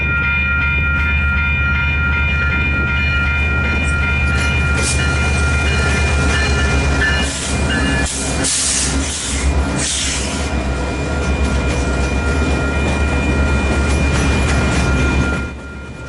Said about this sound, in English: Led by two GP20C Ecos, C-46 is hauling this small mixed train destined for Carsland